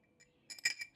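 Powder-coated metal washers for motorcycle drop guards being handled, a few faint small clinks, then a quick cluster of brighter metallic taps and jingles close by, no speech.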